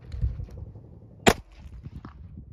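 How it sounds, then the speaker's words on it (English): A .22 Long Rifle fires once at a pumpkin outdoors, a single sharp, fairly faint crack midway through a quiet stretch of low background rumble. "pumpkin with a 22 long rifle."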